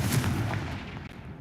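A Confringo fire spell bursts in Hogwarts Legacy inside a cave, a loud booming blast with a heavy low rumble that holds and rolls on for the whole moment, up close with no talk over it.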